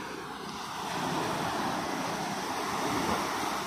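Small ocean waves break on a beach where fishing boats are pulled ashore, a continuous close wash of surf with wind rushing over the microphone, swelling after the first second.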